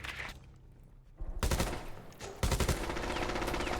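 Automatic gunfire in the video game Rainbow Six Siege: close, loud rapid bursts with a brief lull before fire resumes and intensifies, no voices.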